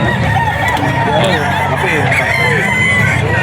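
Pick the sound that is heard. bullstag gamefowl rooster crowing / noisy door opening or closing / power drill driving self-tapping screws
bullstag gamefowl rooster crowing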